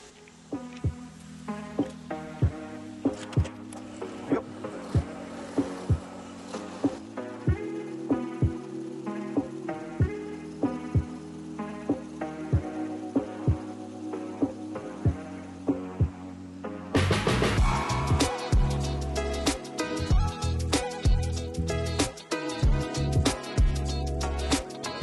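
A machine runs with a steady humming drone and rhythmic tonal pulses while a sharp plug cutter cuts, then grows louder and brighter partway through, continuing unbroken near the end.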